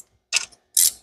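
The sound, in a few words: ratchet wrench turning, set in reverse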